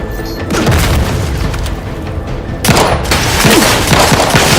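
Heavy booms and bursts of gunfire from a firefight in the video game Outer Worlds 2, with loud explosive impacts and rattling shots layered close together, a sharp blast marking the middle.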